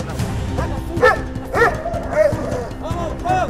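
Trained police dogs bark and yip in short, loud, close bursts during an attack demonstration, with people talking alongside.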